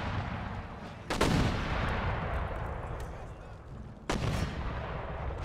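Artillery fire during a battle in the video game Empire Total War: two heavy cannon booms about three seconds apart ring out over a continuous din of battlefield noise.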